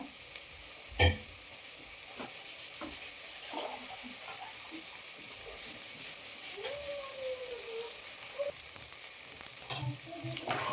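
Spices stirred in a sizzling pan while making chitranna: steady frying hiss with occasional scrapes and knocks of a spoon against the pan, close, without speech.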